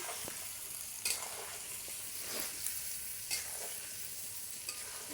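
Hog plum pickle sizzling steadily in a pan while a utensil stirs it, with a few sharp scraping strokes over the constant frying hiss.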